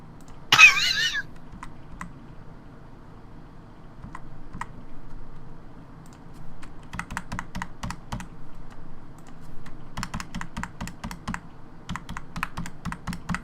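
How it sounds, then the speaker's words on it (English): Intermittent computer keyboard clicking and typing in bursts across the span, fairly quiet and close, with a brief throat-clearing sound near the start and no speech. "He's just clicking on his keyboard now."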